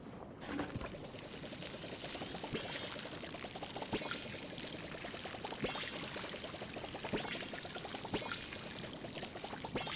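Crops being watered with a watering can in the farming game Palia, a continuous splashing pour that runs steadily and evenly at close range with no voice over it.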